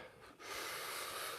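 A single deep breath drawn in through the nose during a breathing exercise, a soft rising airy inhale close to the microphone that swells and holds steady, with no talking.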